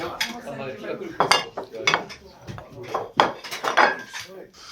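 Dishes and cutlery clink and clatter repeatedly at close range as plates are set down in a large Berlin restaurant, with people talking nearby.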